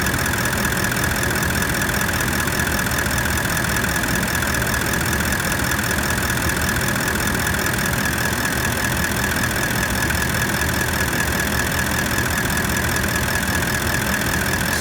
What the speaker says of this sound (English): I've just started the engine up, we're ticking away at nearly 50 amps, 14 volts